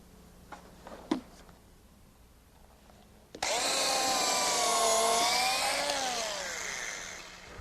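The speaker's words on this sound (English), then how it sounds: "I drill pilot holes for screws which secure the balusters." A power drill whirs loudly for several seconds after a few faint taps, drilling pilot holes in wooden 2x4 rails for baluster screws, its motor whine steady and then slowly easing off.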